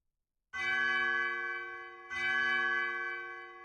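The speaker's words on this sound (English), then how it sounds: "Are the bells even more higher pitched?" Two strikes of a bright, ringing bell in the video game Undertale, each sustaining and slowly fading, heard clearly on their own without speech.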